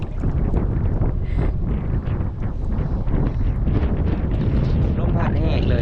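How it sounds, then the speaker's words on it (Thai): Wind gusts blow hard across the microphone outdoors in a large forest in Laos, making a loud, continuous rumbling roar that fills the whole stretch with little variation. "ลมพัดแห้งเลยทุกคน"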